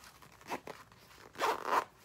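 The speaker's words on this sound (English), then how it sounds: "If I can zip it." A zipper is drawn shut on a small makeup bag: two quick, close zipping strokes, the second longer and louder, with no talk.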